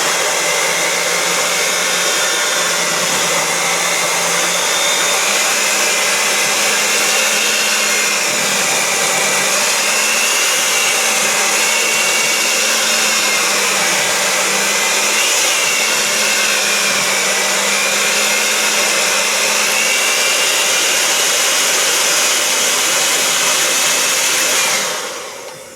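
An electric mixer beats flourless monster cookie dough with a loud, continuous motor whine whose pitch wavers slightly, running steadily for about 25 seconds before cutting off at the end.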